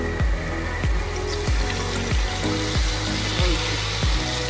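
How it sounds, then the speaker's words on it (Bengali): Water poured into a pan of frying Bhetki fish curry masala brings steady loud sizzling and bubbling, with repeated low thumps roughly every two-thirds of a second, close and without voices. "এবার এর ভেতরে আমরা জল অ্যাড করব।"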